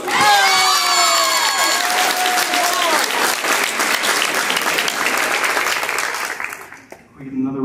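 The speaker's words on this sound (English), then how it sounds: "can we get another round of applause for all the rest of the experts?" A talent show audience applauds and cheers, with loud, dense clapping and whoops filling the room before fading out near the end, while excited voices shout over it.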